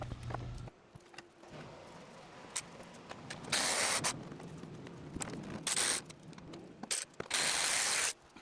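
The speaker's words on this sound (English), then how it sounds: "just undo every bolt that I can see holding anything structural on" A hand ratchet clicks in scattered bursts while bolts are undone on a Camaro RS, with short quiet pauses between runs of close, sharp mechanical clatter.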